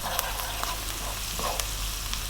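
Onions with a 50-50 ginger garlic paste and salt fry over above-medium heat, a dense continuous sizzle with scattered pops and crackles, close and steady throughout.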